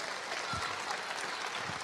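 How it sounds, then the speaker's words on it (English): Audience applause at a Rocket League esports event at Hybrid World Adelaide, a brief, steady clatter of clapping from a crowd, fairly faint and even throughout. "A round of applause for Museum, please, ladies and gentlemen."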